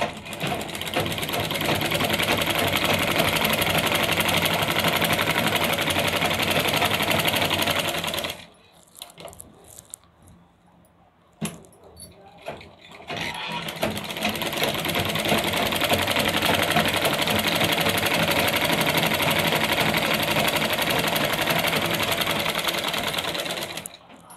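A sewing machine stitches over a blouse belt seam on a choli cut blouse, running in long loud steady whirs, pausing for a few seconds midway with light clicks, then resuming.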